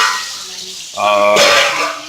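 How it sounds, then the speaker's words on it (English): A pot of boiling water on the stove while cooking pozole rojo, a close bubbling and sloshing wash with brief clinks of the pot, loud and alone, rising in a burst partway through. "our pot of boiling water"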